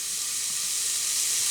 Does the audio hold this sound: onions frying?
yes